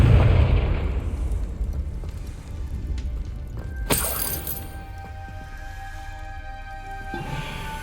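A Confringo spell explosion in Hogwarts Legacy inside a puzzle chamber: a deep boom opening the clip, decaying into rumble, then a sharp cracking burst midway followed by lingering tonal ringing.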